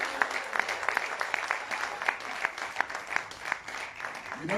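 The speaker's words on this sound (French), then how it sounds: "Je voudrais juste qu'on applaudisse encore très fort nos amis qui se lèvent." Modest applause from an audience at a slam poetry evening during La Nuit des Idées, scattered hands clapping with distinct individual claps, fairly quiet and somewhat distant.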